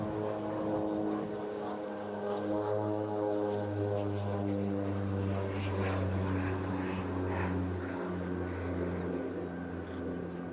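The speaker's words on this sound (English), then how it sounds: "Rockwell OV-10 Bronco, a light turboprop attack and observation aircraft developed back in the 1960s for counterinsurgency combat" A Rockwell OV-10 Bronco turboprop attack and observation aircraft flies at the Eastbourne International Airshow, its propellers giving a steady, droning, harmonic hum that stays fairly distant and constant throughout.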